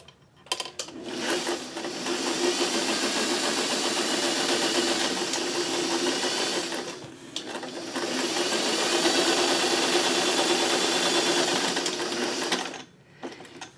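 A sewing machine runs a straight stitch along a top-stitched fabric piece in two long, steady bursts of dense mechanical whirring, pausing briefly between them before stopping near the end.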